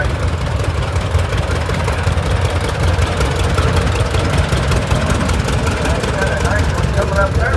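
A 1951 John Deere tractor rolls past in a parade at an Oliver tractor show in Boonville, Missouri, its engine a steady, loud low rumble throughout, with people talking over it.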